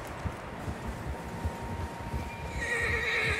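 Several horses neigh and whinny in the Red Dead Redemption 2 wilderness, with hooves clip-clopping steadily underneath and a long, shrill whinny rising near the end over faint rustling.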